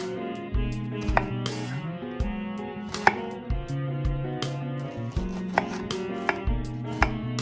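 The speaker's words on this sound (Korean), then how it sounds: "먼저 대파를 얇게 썰어주세요. 양파는 먹기 좋은 크기로 다져주세요." A knife chops green onion and onion on a cutting board in quick, close, crisp strokes with a fairly regular rhythm and no speech.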